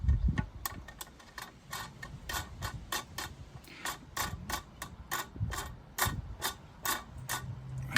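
Fasteners being installed and tightened, a run of sharp repeated ratcheting clicks at an irregular quick rhythm, close up, with faint low handling noise between them.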